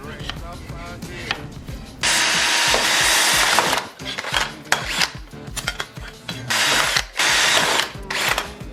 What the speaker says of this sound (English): I'm gonna drill the holes for my screws so that they're all in the same exact spot